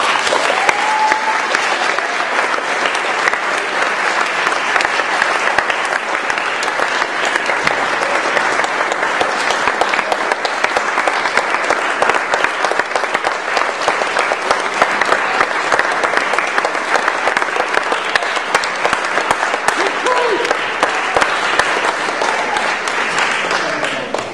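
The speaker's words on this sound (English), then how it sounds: "Let's give our new Eagle Scouts one more round of applause." An audience at an Eagle Scout ceremony applauds the new Eagle Scouts, with loud, dense, continuous clapping from a large room that stays level for over twenty seconds and then eases off at the end.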